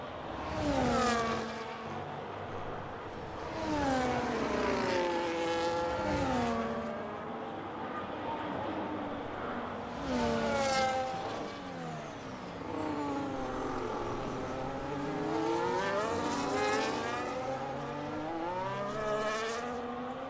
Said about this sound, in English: You can hear how they try to use the engine and the engine just stutters its way.